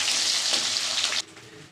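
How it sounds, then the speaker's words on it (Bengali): Chopped onions hiss and sizzle in hot oil left from frying egg and potato, a loud, close crackle that cuts off abruptly after about a second. "আর ডিম আলু ভাজা তেলের মধ্যে আমি পেঁয়াজ কুচি দিয়ে দিলাম"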